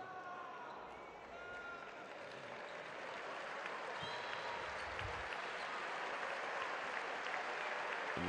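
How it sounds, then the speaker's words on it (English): Home fans applauding at a FIBA Basketball World Cup qualifier between Uruguay and Paraguay, sustained crowd clapping that builds and holds through the arena, with a commentator's voice and squeaking sneakers underneath. "the home fans applaud him for his efforts"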